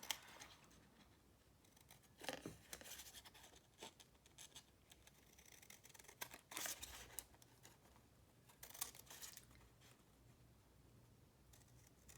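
Scissors snipping around a paper craft piece for a pocket journal: irregular crisp cuts and small paper rustles, close and quiet, with short pauses between snips and no talking.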